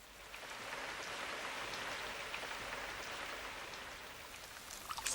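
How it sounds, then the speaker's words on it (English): Steady rain falling on a garden, a dense even hiss of drops that holds throughout with a few louder patters near the end, no voices. "I shouldn't grumble about the rain."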